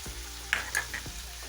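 Fresh garlic and vegetables frying in a pan for veggie fajitas give a steady close sizzle, broken by a few sharp clinks and scrapes from stirring.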